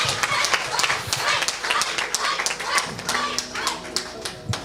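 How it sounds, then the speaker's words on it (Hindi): A church congregation at a Christmas carol gathering claps in an uneven, scattered burst of hand claps, fairly close, while voices murmur underneath. "तालियां जी"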